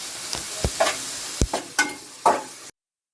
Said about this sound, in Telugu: ఉల్లిపాయలు అయితే వేపుతున్నాను అనమాట